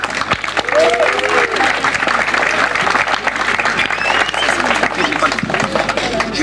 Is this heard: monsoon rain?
no